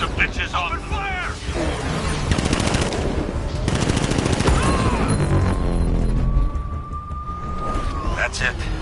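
Enemy soldiers fire automatic weapons in the Batman Arkham Knight video game, with loud, sustained machine-gun bursts and crashing impacts. Voices shout over the gunfire.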